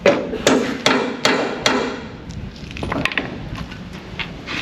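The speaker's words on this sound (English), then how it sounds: "Hammer." Four sharp hammer blows in steady rhythm, close and loud, followed by fainter clinks and workshop rustling.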